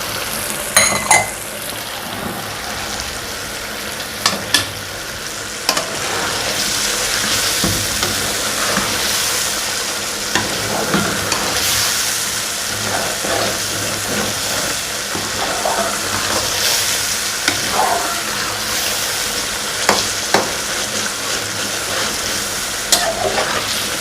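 Sindhi-style chicken karahi frying with yogurt just added, a loud continuous sizzle close by with repeated spoon scrapes and metal clinks against the pot.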